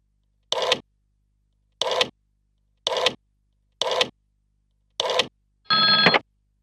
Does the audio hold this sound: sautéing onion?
no